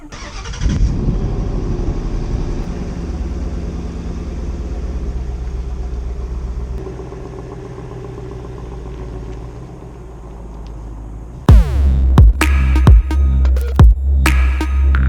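A 2016 Ford Mustang GT Fastback with stock exhaust idles with a loud, steady low rumble. Near the end the engine stops and a few sharp thuds and clicks follow.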